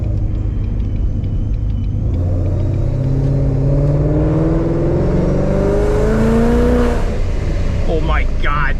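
A 700hp Ford Mustang with a Corsa sport exhaust and rear soundproofing removed, heard from inside as the engine climbs through loud, raspy revs over a deep rumble, with someone speaking over it.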